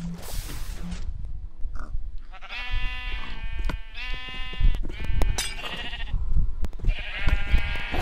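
Several sheep bleat repeatedly in Minecraft, overlapping calls rising and falling over a steady background with occasional clicks.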